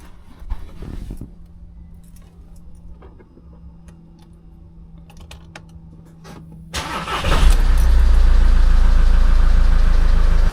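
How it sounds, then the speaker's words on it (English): A VW T6 van's engine cranks and catches after a quiet stretch of faint knocks, then settles into a loud, steady, close idle with a low rumble. "so that's the engine running"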